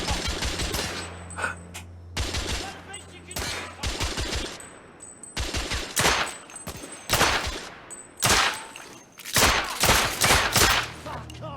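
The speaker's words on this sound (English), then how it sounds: "They really just let Buddy shoot him though." Heavy gunfire in the video game The Order: 1886 erupts in repeated loud volleys and rapid automatic bursts, separated by brief pauses, with faint voices underneath.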